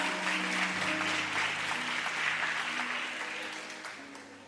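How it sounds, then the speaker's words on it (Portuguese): A church congregation applauding during a worship service, sustained dense clapping with a faint sustained musical tone underneath, gradually easing off toward the end. "Você dá um glória a Deus e aplauda Ele aí em nome de Jesus"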